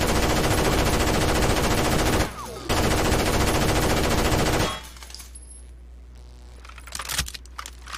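Rapid automatic gunfire from the tactical shooter game Rainbow Six Vegas 2, a dense, loud burst that runs for about four seconds with a brief gap, then cuts off to quieter ambient noise with faint scattered clicks.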